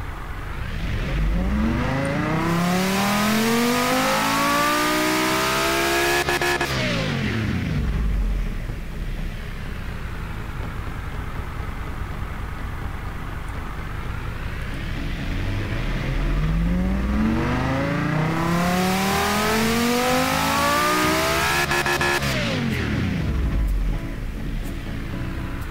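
A high-revving V10 race engine in the game Automation climbs steeply through the gears, drops, then screams upward again, loud and close with no talking.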